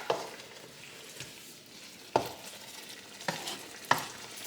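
Chopped onions fry in a pan as a spoon stirs them, a low continuous sizzle punctuated by four sharp scrapes or knocks of the utensil against the pan.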